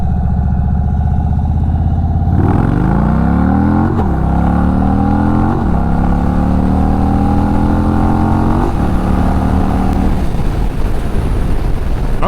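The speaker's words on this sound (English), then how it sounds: "So let's take this famous left here and open this guy up a little bit." An Indian Sport Chief RT motorcycle with modifications pulls hard through several gears, its engine rising in pitch with each run and dropping briefly at shifts, loud and close, then easing off near the end.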